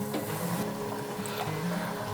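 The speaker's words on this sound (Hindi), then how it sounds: "इसे हम मिक्सी जार में चला के फाइन पाउडर बना लेंगे।" A mixer grinder runs with a steady, loud whirring drone and a gritty grinding rattle while grinding roasted spices to a fine powder, unbroken for the whole stretch.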